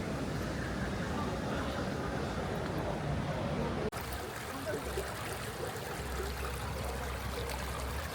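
Water flows steadily along the Cheonggyecheon stream in Seoul in the evening, a continuous close rushing and babbling wash that fills the whole stretch at an even level, with faint crowd murmur mixed in.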